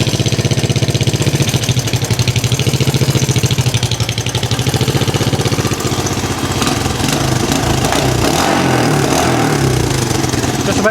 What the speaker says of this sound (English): Just gonna tinker around with the idle here, see if I can get her nice and smooth